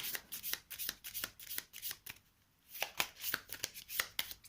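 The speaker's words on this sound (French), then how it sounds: "celle-là, je les mélange dans mon deck" Cards from a solo game of The 7th Continent being shuffled into a deck: a close, steady run of crisp riffling bursts, with a short pause midway before the shuffling resumes, no talk.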